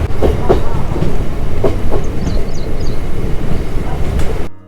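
A Diva–Roha MEMU train runs on the rails with close, loud, continuous rumbling and rhythmic clickety-clack from the wheels.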